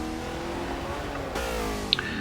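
A race car engine in Forza 6 drones at high revs with a steady harmonic whine while pushed hard through a corner, the tone shifting partway through, followed by a brief tire chirp near the end, with no talking.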